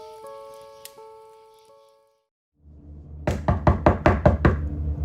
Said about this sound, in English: We hear a knock at the door.